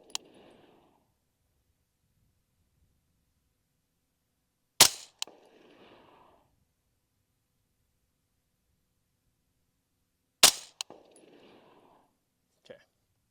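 An LWRC M6A3 DMR rifle is fired outdoors for a three-round group. Three loud, sharp single shots come several seconds apart, and each one has a short echo trailing away. A faint extra click follows at the end.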